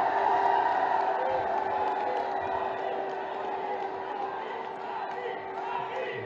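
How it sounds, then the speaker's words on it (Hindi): Large crowd at a public event for the chief minister in Firozabad, cheering and applauding steadily throughout, a dense continuous roar of voices and clapping with a steady tone running underneath. "आप सबकी जोरदार तालियों के साथ।"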